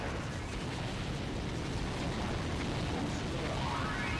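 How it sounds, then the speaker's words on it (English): Explosions in the Wii shooter Counter Force rumble as a continuous, low, dense barrage of booms blending into one another, moderately quiet and without voices. "bunch of explosions coming at me."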